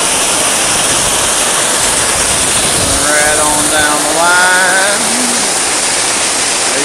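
Waterfall at Buzzard Swamp in Allegheny National Forest, heard as a steady loud broadband rush that fills the whole clip. Someone talks over it briefly partway through.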